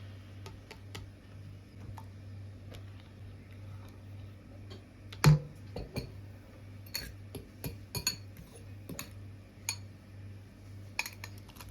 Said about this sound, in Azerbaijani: Öncə bunu qarışdırıram